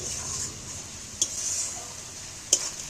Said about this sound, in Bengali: সব মশলাগুলো এবার ভেজে নেব নাহলে মশলাগুলো কাঁচা গন্ধ থাকবে